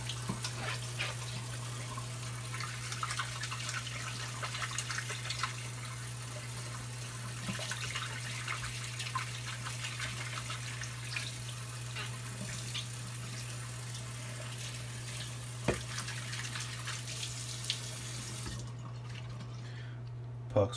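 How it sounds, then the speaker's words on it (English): Tap water runs steadily and evenly while a shaving soap puck is rinsed, a constant close hiss with a few faint drips and knocks, no voices. "Gonna rinse off my puck."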